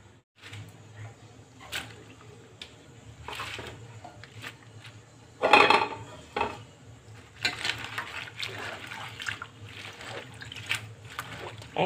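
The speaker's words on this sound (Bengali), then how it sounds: "তো আজকে দেখছি কচি কচি পালং শাকটা ধুয়ে নেব" Tender fresh spinach leaves being rinsed in water, with soft splashing and trickling sloshes at close range, a louder burst of swishing midway, and faint background voices.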